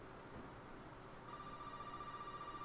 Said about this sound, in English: Telephone. Ring, ring, ring, ring, ring.